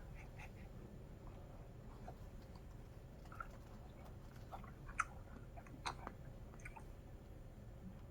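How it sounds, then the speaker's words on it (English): Soft, wet chewing of a chicken cutlet close to the microphone, with scattered smacks and squishy bites over a quiet background, no talking. "He's eating a chicken cutlet. Oh, God, I hate that sound."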